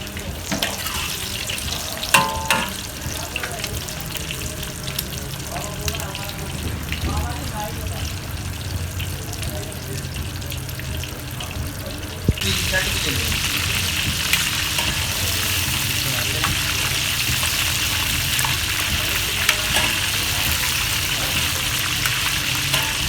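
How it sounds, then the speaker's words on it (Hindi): Fish coated in masala fries in hot oil, Lahori wedding-style, giving a steady broad sizzle that grows louder and denser halfway through, with a voice speaking over it. "ये फ्राई हो गई बिल्कुल।"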